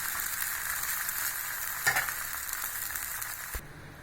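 A dosa sizzles and fries steadily on a hot pan, a bright continuous crackle with a short scrape or flip partway through, then quieting abruptly near the end.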